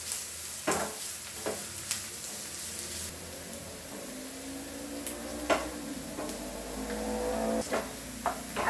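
Prawns with curry leaves fry toward golden in a Kerala-style pan, a low continuous sizzle broken by intermittent clinks and scrapes of stirring, close and moderately quiet, with no speech.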